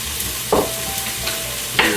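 Chopped onion dropped onto bacon in a hot pan, with a steady sizzle and a few sharper bursts of crackle as the pieces hit the fat and get stirred, close and alone without talking.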